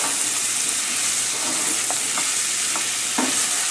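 Carrots and zucchini sizzle steadily in a hot pan while a spoon stirs them, giving a few soft scraping knocks over the constant hiss.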